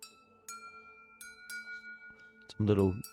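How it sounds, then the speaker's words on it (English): Water-filled drinking glasses are struck like wind chimes, giving a handful of clear ringing tones at irregular intervals, each decaying slowly and quiet, before a voice briefly speaks near the end. "wind chimes, just from some glasses"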